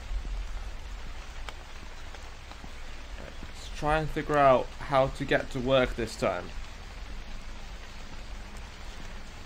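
Steady rain in the horror video game The Convenience Store, a constant soft hiss running throughout, with someone talking over it in the middle.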